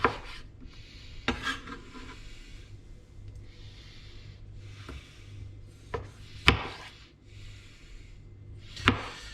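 Knife lightly chopping through the root ends of onions on a cutting board, a handful of sharp, separate chops spread out over steady low background rustling, close and moderately loud.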